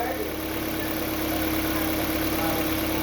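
A Hyundai Veloster engine with a noise fault near the engine runs steadily, giving a continuous close hum with an even drone and no clear rev changes.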